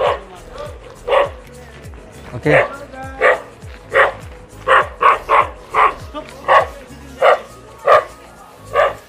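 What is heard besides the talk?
dog barking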